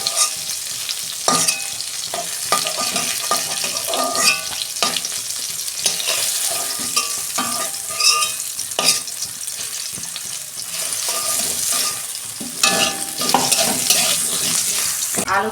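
Potatoes fry in hot oil in a pan, with loud continuous sizzling and crackling close by, broken repeatedly by sharp scraping and clattering from stirring, and no speech.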